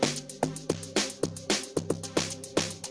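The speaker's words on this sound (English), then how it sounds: "Mostly the Zenten, it's the Zenten log drum" A Zenten log drum in an FL Studio Mobile amapiano beat repeats a bouncy, syncopated pattern of deep pitched thuds layered with bright percussion, clear and close with no voices.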